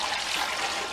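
Water is poured from a measuring cup into a pot for cooking, a steady, continuous, close splashing stream that lasts about a second with no talk over it.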